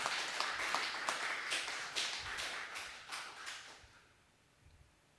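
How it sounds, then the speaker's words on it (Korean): A church congregation claps together in a dense burst of applause that gradually thins and fades out, leaving a few scattered claps in a quiet, reverberant room. "박수를 치며 하나님께 영광을 주시기 바랍니다"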